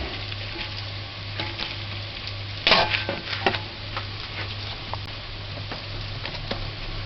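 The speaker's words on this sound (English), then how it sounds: "While that's frying" Steady crackling sizzle of fish frying in hot oil, continuous and close, with a few brief louder pops and stirring clinks partway through.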